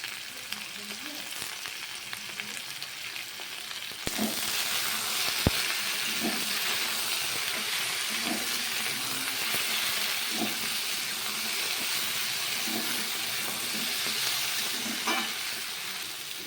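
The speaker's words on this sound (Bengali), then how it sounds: "আলু আর কলাগুলো একটু লাল লাল করে বেশ ভালো করে ভাজা" Potatoes and plantain pieces fry with fish head and turmeric in a pan, a quieter sizzle that jumps louder after a few seconds, with regular utensil taps and stirring scrapes, no talk.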